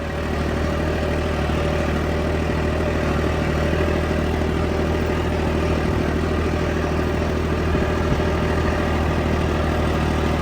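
A Kubota tractor engine idles and rumbles steadily on a farm, low and continuous with a constant drone and no other sounds.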